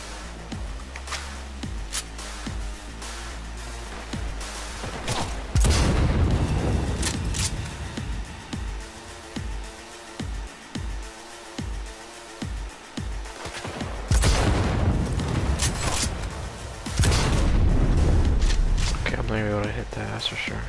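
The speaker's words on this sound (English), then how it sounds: "that guy is shooting me through the wall" Rapid bursts of gunfire in the video game Cyberpunk 2077, set in the Badlands, crackle repeatedly amid other game noise, with loud booming hits and shots from an enemy firing through a wall.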